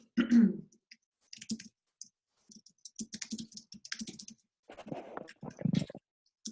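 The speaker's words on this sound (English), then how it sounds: "I'm typing" Computer keyboard typing, with quiet irregular bursts of key clicks in short runs interrupted by a cough and throat clearing, fairly close and alone without talk.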